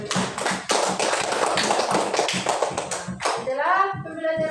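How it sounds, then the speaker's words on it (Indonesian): A classroom of schoolchildren claps together at a teacher's prompt, a dense burst of many hands that fades after a few seconds as a voice begins speaking near the end. "Iya, tepuk tangan."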